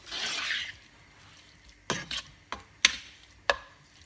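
Scampi cooking with parsley in a pan give a short soft sizzle, then after a pause come a few sharp, separate scrapes and knocks of a utensil stirring against the pan, fairly quiet and close, with no talk.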